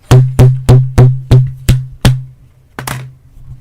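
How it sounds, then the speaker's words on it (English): DVD cases of a TV series knocked against a microphone: seven loud, sharp close knocks in a steady rhythm, each with a brief resonant ring, then a gap and one more knock followed by a softer rattle, with no talking. "That was the sound of me hitting the microphone with my DVDs of Ash vs."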